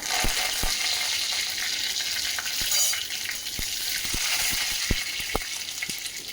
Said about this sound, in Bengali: এখানে সর্ষের তেল দিয়ে দিচ্ছি এক চামচ আর এই যে গোটা সর্ষা গোটা জিরে আর দিয়ে দেবো কারি পাতা